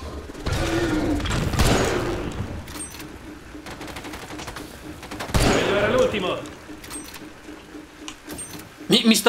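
Gunfire from The Bureau: XCOM Declassified game, bursts of shots crackling over game music and effects, with a louder volley near the middle and sharp hits at the end, while voices talk throughout.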